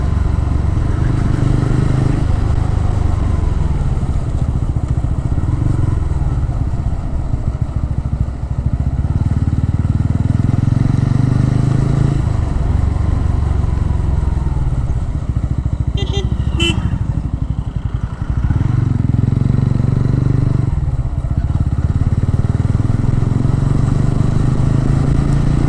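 A motorcycle rides a winding Kolli Hills road past coffee and jackfruit plantations, its engine droning loud and steady throughout with some wind rumble and brief rises in revs.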